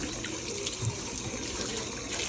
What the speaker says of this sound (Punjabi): ਆ ਤੌੜੀਆਂ ਚ ਪਾਣੀ ਡੋਲ ਕੇ ਪਾਣੀ ਭਰਨ ਲੱਗੇ ਹੋਏ ਆ